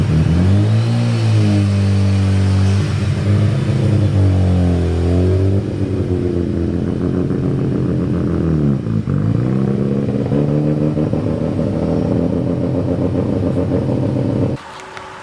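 A Mazda RX7 FD engine idles and revs while the car is driven, close and loud. The pitch rises and falls with throttle, then cuts off near the end.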